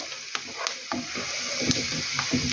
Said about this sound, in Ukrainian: Але так як цибуля трошечки підсмажиться зараз, воно все-таки смачніше виходить.